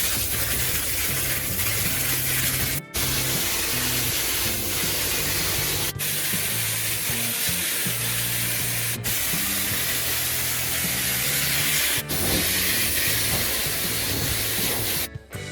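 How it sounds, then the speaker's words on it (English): Spatter paint sprayed onto the inside of a classic car's trunk in one steady, loud hiss of spray that runs almost without a break, with short cut-offs near 3, 6, 9, 12 and 15 seconds between passes. "Several coats of the spatter paint were then applied."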